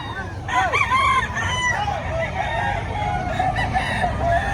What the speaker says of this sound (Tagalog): Ang gaganda ng manok ni Boss Perry, oh.